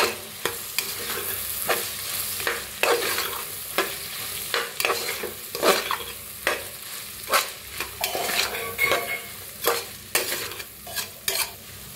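Dry pulses and peas roasting with turmeric in a pan, a spoon scraping and stirring in steady repeated strokes over a continuous close sizzle, with no talking.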